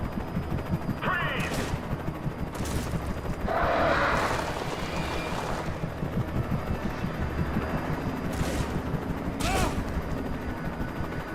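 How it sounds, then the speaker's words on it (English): Enemies fire guns at the player in Alan Wake Remastered, a stream of rapid gunshots and bursts amid rumbling action noise, with sharp louder reports at intervals and someone speaking over it. "Why are they shooting at me?"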